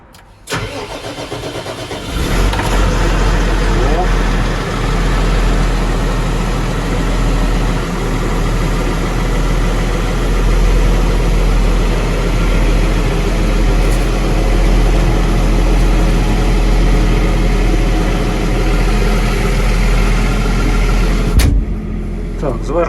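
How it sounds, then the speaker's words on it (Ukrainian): A Deutz 6205 tractor engine cranks and catches after a couple of seconds, then idles loud and steady while warming up for about twenty seconds before cutting off. "Так, Двигун прогрівається."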